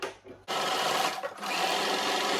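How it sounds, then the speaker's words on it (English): Sewing machine stitching an elastic band into fabric for a ruffled turban hat: a brief pause, then a continuous, steady whirring run of rapid stitches with a short dip midway, close and clear. "then you carry on stitching"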